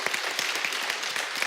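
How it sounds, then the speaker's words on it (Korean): A church congregation applauds the choir and orchestra after a Sunday Easter-season service anthem, steady moderate clapping from many hands in a reverberant hall. "우리 성가대 오케스트라 감사와 격려의 박수 한번 드리겠습니다."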